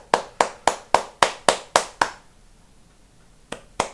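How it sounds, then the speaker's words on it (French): A single person claps their hands at home at 8 pm, close and crisp. There are eight evenly spaced claps, then a short silence, then two more claps. "mais faut applaudir parce que voilà"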